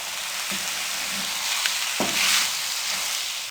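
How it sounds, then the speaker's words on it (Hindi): Urad lentil dal mash frying steadily in a pan, a continuous close sizzle with a few soft stirring knocks and no talking. "अब इसको हम 5 से 7 मिनट के लिए इसकी अच्छे तरीके से भुनाई करेंगे।"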